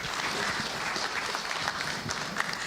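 A broadcasting convention audience in Southern Africa claps for the honourable minister, a short burst of steady applause from many hands at moderate distance, with a few louder individual claps standing out near the end.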